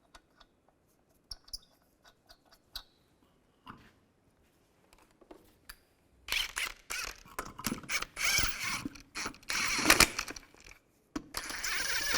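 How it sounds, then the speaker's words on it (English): A torque wrench tightening the lug nuts on a Chevrolet Cobalt wheel: faint ticks and clicks at first, then a dense run of loud ratcheting clicks and metallic creaks in close, irregular bursts. "Now I'm going to torque the lug nuts to 100 foot-pounds in a cross pattern to tighten the wheel down evenly."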